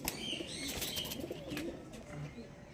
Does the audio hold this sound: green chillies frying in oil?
no